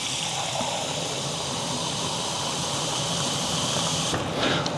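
Steady, continuous rush of water poured into a cooking pot of cube steak and rice, close and even in level for several seconds, with no talking and a slight surge near the end.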